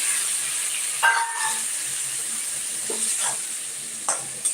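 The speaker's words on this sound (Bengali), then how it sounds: "এখন ফুলকপিগুলো একটু ভাজা ভাজা করে দিচ্ছি" Steady hiss of cauliflower frying in a hot pan, with a few scraping stirs cutting through the sizzle.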